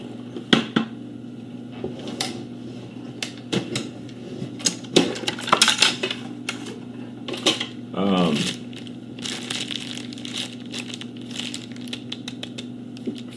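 Plastic dummy training rounds are handled inside a metal ammo can, giving scattered light clicks, taps and rattles at close range, with a voice talking at points.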